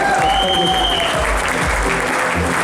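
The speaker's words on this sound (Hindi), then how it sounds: "जोरदार तालियां होनी चाहिए" An audience at a payout celebration bursts into loud, dense applause that carries on steadily through the whole short stretch, with no voices standing out.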